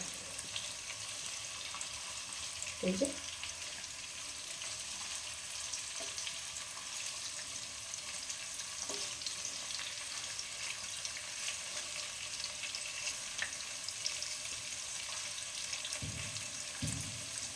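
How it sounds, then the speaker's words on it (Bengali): Spices frying lightly in a pan for dhaba-style paneer masala, a steady soft sizzle running throughout with a few faint clinks of stirring, no voices. "এগুলোকে এইভাবে হালকা হালকা করে ভেজে নিতে হবে"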